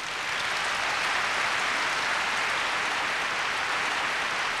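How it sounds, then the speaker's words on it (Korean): Sustained audience applause at a Korea University centennial year-end concert with the Seoul Philharmonic, welcoming the Seoul mayor to the stage; steady, dense clapping fills the hall throughout without talk. "뜨거운 박수로 환영해 주시면 감사하겠습니다."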